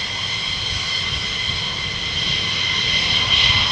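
Military jet engines at RAF Lakenheath, a loud, steady roar with a hissing high whine, holding constant and swelling slightly toward the end.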